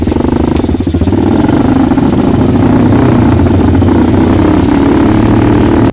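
A motorcycle engine runs steadily and loudly throughout, a continuous close idle with a slightly uneven, throbbing note and no talk over it.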